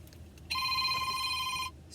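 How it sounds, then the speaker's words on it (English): A phone rings with a bright, warbling electronic tone lasting a little over a second against quiet room background, with no talking. "Sorry, my phone."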